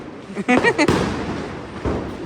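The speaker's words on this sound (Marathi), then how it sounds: "मग झाले फटाके फोडून" Diwali firecrackers burst in two sharp bangs about a second apart, close and loud, right after a brief voice.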